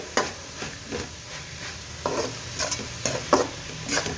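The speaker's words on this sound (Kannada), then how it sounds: "ಈಗ ಇದು ಇದರೊಳಗೆ ಫ್ರೈ ಆಗಲಿ, ಚೆನ್ನಾಗಿ ಫ್ರೈ ಆಗ್ತಾ ಇದೆ." Fried rice ingredients stir-fry in ghee in a pan, with a steady sizzle under repeated sharp spatula scrapes and clinks in a loose rhythm, close and loud, with no voices.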